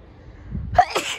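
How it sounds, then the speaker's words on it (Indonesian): A person sneezes outdoors on a cold day beside a building with a small garden: one sharp, close sneeze, preceded by a quiet intake of breath, with a short after-burst. "kok bersin terus ini ya?"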